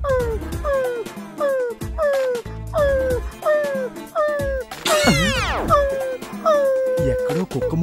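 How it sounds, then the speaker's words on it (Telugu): A dog howls and whimpers in a comedy serial, a rising and falling wail repeated about a dozen times in a steady rhythm, with a louder sweeping cry midway. "ఎక్కడో కుక్క మూలికి వినిపిస్తుంది."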